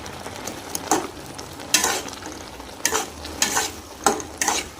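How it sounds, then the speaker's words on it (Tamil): Bread halwa being stirred with ghee in a pan, soft scraping and sizzling strokes repeating in an uneven rhythm, close and steady with no talking. "அப்படியே கொஞ்சம் நெய்யை போட்டு விடாமல் கிண்டிக்கினே இருக்கணும்"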